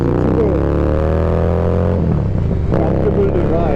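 A Harley-Davidson Street Rod motorcycle engine under way on a ride through downtown Dubai, a loud steady drone with a brief dip and swell in the middle, as if easing off and pulling again.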